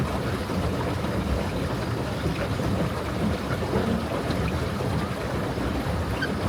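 A boat rowed back along the Phadung Krung Kasem canal in Bangkok, with steady water wash and wind noise running throughout and no distinct individual oar strokes, under continuous outdoor ambience with no talking.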